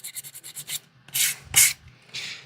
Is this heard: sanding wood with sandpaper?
yes